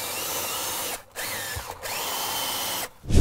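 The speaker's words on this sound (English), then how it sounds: "I'm gonna take our drill brush, stick it in the cup holder," A drill brush spins in a car cup holder with a steady whirring buzz, cutting out briefly twice before a final stop with a low thump.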